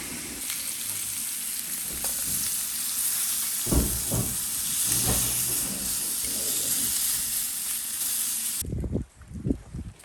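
Bacon sizzles and fries in a 1940s cast iron pan with a steady bright hiss, broken by a few scraping stirs and clatters near the end.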